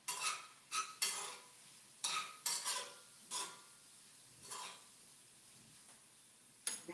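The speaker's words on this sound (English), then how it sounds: "let me stir my pineapples" Pineapples being stirred in a bowl, with quiet scattered scrapes and clinks of a utensil against the bowl in irregular bursts separated by short pauses.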